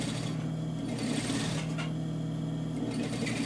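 A sewing machine stitches a dress hem in a steady, continuous mechanical whir, close and fairly quiet, running without pause.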